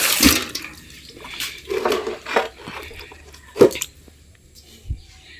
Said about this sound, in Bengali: প্রথমে এমনি মুছে নেব জল দিয়ে, তারপরে ফিনাইল দেবো।